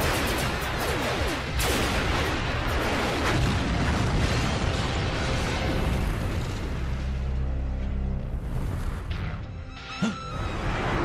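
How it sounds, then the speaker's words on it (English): Starship weapons firing in a Starship Troopers space battle, a dense, continuous roar of blasts and booms filling the scene, loud and unbroken for several seconds. "All systems fire!"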